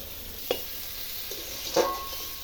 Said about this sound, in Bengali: লঙ্কা দিয়ে ভালো করে কষিয়ে নিচ্ছি